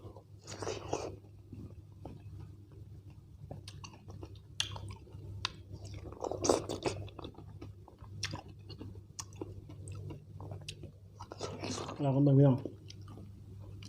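Close, moist chewing and biting of dragon fruit, with soft squishy crunches recurring under a steady low hum and intermittent talk.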